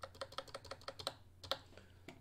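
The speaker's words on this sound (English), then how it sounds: "we will type few more lines of code for that guy" Code being typed on a computer keyboard: a quick run of crisp key clicks in an uneven rhythm, close and fairly quiet, then a short pause and a few more isolated keystrokes, with no voices.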